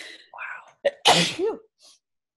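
A single loud, close sneeze bursts out sharply between bits of conversation, with a short exclamation and brief talking around it.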